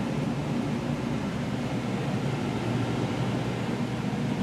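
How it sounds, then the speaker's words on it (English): A steady broadband whoosh of air from a running 2003 Carrier 3.5-ton furnace air handler, constant and moderately quiet with a low hum underneath. "And here's the sound of the 2003 Carrier furnace"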